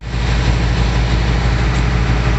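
A tractor engine idles steadily and loudly up close, a continuous low rumbling drone with no pauses, in winter conditions.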